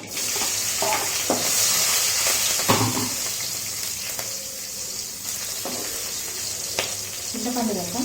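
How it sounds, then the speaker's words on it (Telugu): Mustard seeds and green chillies frying in hot oil for a sesame chutney, a steady close sizzle with stirring scrapes and a few clinks, faint voice in the background. "ఆవాలు చిట్పటలాడిన తర్వాత 3 పచ్చిమిర్చి వేసుకొని 1 నిమిషం వేయించుకొని"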